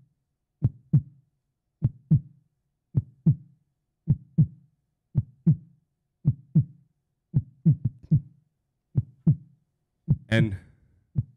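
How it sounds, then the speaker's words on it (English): A loud heartbeat pounds in steady lub-dub pairs, close and heavy, repeating about once a second, with a brief swelling whoosh near the end. "I can hear my heartbeat, and it's really, really loud in my head"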